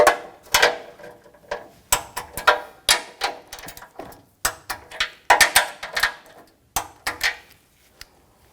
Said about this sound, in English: Now I'm going to torque these nuts to 23 foot-pounds.